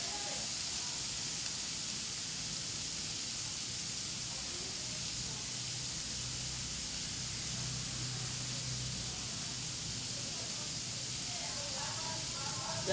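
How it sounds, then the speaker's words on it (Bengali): Onions fry in a pan on a home stove, giving a steady, even sizzle and hiss throughout, with a quiet voice now and then under the cooking noise. "যতক্ষণ না পেঁয়াজ লাল লাল হয় একটু ভেজে নিতে হয়।"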